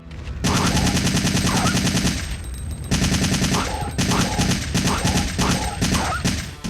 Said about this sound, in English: The Assault Rifle, Resident Evil 3 Nemesis.